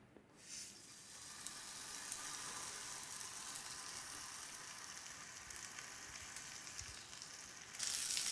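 Parmesan and basil crusted cod sears in a hot skillet with a steady, soft hiss and sizzle that holds fairly evenly throughout and swells slightly at the end.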